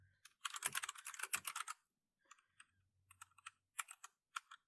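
Close, crisp typing on a GMMK mechanical keyboard: a fast burst of rapid keystrokes, a brief pause, then scattered single clicks and short clusters, heard alone in a quiet room.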